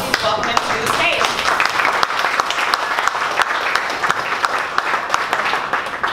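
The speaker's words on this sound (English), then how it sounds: "stand up and do a big round of applause every time we have a presenter take the stage" An audience applauds as a presenter takes the stage at a conference in Dallas, with dense, sustained clapping and sharp individual claps, and a voice briefly heard at the start.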